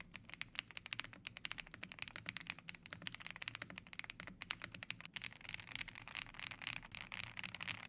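Rapid, continuous typing on a full-size gasket-mount keyboard with a number pad and avocado switches, a dense stream of soft, creamy keystrokes recorded close up with no talking.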